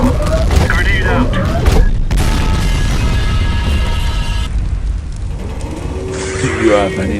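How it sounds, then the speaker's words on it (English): Grenade explosion sound effect in a Skibidi toilet animation, a sudden loud boom and crackling blast mixed with synthetic whooshes and mechanical effects, with voices talking over parts of it. "Grenade out."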